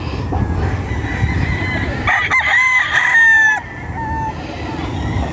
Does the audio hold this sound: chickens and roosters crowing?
yes